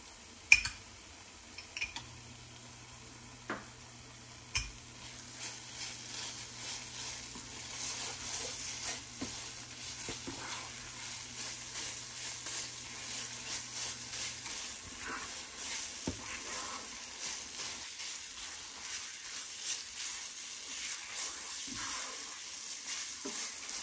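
Beetroot burfi mixture sizzles steadily in ghee in a pan, a soft continuous frying hiss with light scraping and ticking from stirring, close and fairly quiet, with no voices.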